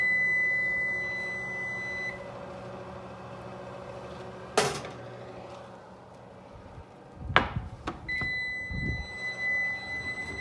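A kitchen oven timer beeps in a steady high electronic tone, broken by a sharp clatter and a later rattling knock before the beeping resumes.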